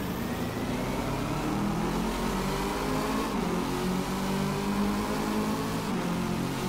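Peugeot Onyx Concept 3.7 32V turbo diesel engine heard from the cockpit in Drive Club, droning steadily with rising and falling rev harmonics, loud and continuous.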